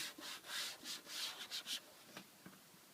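A two-piece vinyl sticker is rubbed firmly with quick back-and-forth strokes to press it down, giving soft, close, swishing friction bursts that fade to a few quiet taps.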